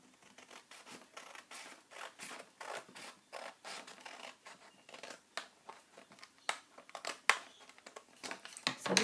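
Close, crisp scissor snips and paper rustling as a 12x12 sheet of paper is trimmed for a flipbook, a steady run of short cuts and scratchy handling, fairly quiet, no talking.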